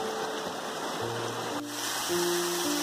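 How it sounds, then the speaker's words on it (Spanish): Clear mountain stream tumbling over small waterfalls in the eastern hills of Bogotá, a steady close rushing of water. "lo más hermoso son estas cascadas que podemos apreciar de agua cristalina"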